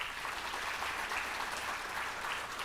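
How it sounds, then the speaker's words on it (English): Conference audience at an inaugural ceremony on artificial intelligence gives a sustained round of applause for the dignitaries, a steady wash of many hands clapping in a hall. "please welcome all our dignitaries once again with a resounding round of applause"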